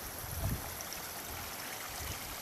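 A slightly overgrown creek flows steadily under bridges, a faint continuous wash of trickling water with no speech.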